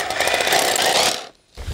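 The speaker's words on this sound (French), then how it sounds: "je prends mon perfo avec une mèche de 60 cm et je vais me mettre là où je veux que mon futur piquet de terre soit." A rotary hammer drill with a 60 cm bit boring into the ground to set an earthing rod, a loud, steady hammering rattle close by that cuts out for a moment near the end before starting up again.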